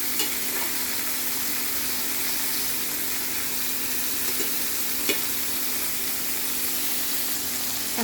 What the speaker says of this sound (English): let's turn it on the other side and fry it also for about 10 minutes